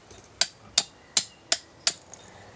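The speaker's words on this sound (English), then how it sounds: "The marks that were put by the tan hammer is now put away by the chisel" A chisel strikes a stone sculpture from Zimbabwe, five evenly spaced sharp metallic taps close by, each with a short ringing decay, with no talk.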